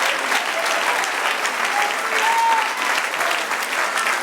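A church congregation applauds, a dense, steady wash of many hands clapping together that holds evenly throughout, loud and full, with a few faint voices mixed in.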